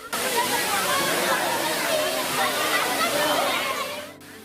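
Vennela waterfall in Bhadradri Kothagudem pours down in a steady, dense rush of falling water, loud and continuous for about four seconds before it cuts off abruptly.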